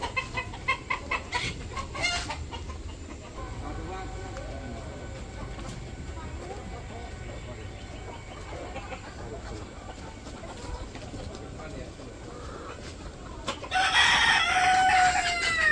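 Village chickens cluck and a rooster crows at evening feeding time, with sharp bursts at the start and a louder flurry of calls near the end over steady background noise.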